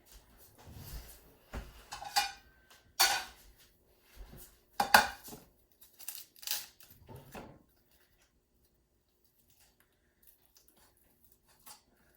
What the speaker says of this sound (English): I'm gonna cut my brie.